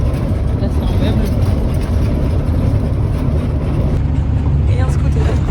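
A crowded bus on a ride toward the Vietnamese border from Cambodia, loaded with furniture, rice sacks, backpacks and people, gives a steady, loud low engine rumble and road drone throughout, with muffled voices in the background.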